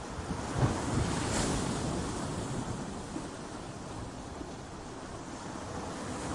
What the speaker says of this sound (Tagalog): ang mga alon mula sa dagat